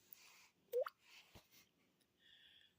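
A person imitates a single water drip with the mouth, a quick rising liquid plop standing out in a quiet room, followed by a few soft mouth noises and a brief faint whistle.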